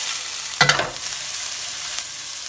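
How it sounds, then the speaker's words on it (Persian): Garlic sizzles steadily in hot oil in a pan, with a brief scrape of stirring partway through over the continuous close frying hiss. "اجازه میدم سیرم هشنگ داخل روغنم سرخ بشه"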